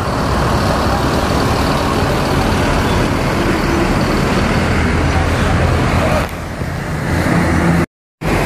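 An ANS Royal Executive coach pulls away amid loud, dense roadside traffic rumble, with a voice talking over it and a brief dropout near the end.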